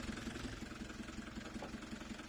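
A farm vehicle's engine idles in the Landwirtschafts-Simulator 19 game, a steady rhythmic low throb that is moderately quiet and unbroken, no speech heard.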